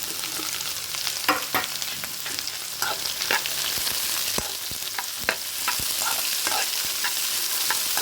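Capsicum and onion pieces sizzle steadily in a hot pan while a utensil scrapes and stirs, producing scattered clicks and taps over the continuous frying hiss.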